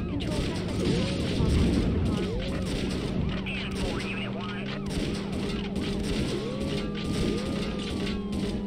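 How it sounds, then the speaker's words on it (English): Gunshots fired by a suspect at police during a chase, a series of cracks and booms over a wailing police siren and radio chatter, with voices talking throughout. "Suspect is firing at us."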